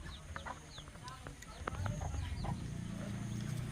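Chickens clucking and calling in a Nepali village yard, several short calls scattered over a constant outdoor background, fairly faint and mid-distance.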